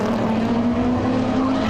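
Race cars at Pukekohe Park Raceway in a sports and GT sprint race, a loud sustained engine drone with a steady pitch as the cars run close by.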